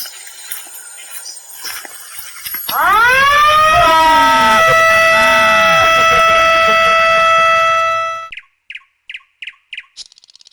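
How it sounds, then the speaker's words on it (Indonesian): A loud electronic elephant deterrent siren rises sharply and wails steadily for several seconds, then cuts off, followed by a series of short rapid beeps; faint chirps beforehand. "ada sirene yang akan mengeluarkan bunyi cukup keras"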